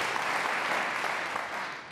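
Audience applause fills a televised 2018 Colorado gubernatorial debate between the Democratic and Republican candidates, a dense, steady clapping from a studio crowd that holds at full strength for about two seconds, with no talking over it.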